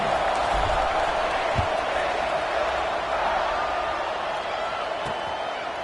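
A football stadium crowd roars steadily beneath a commentator's voice before a kickoff, a continuous distant wash of noise with a few scattered shouts.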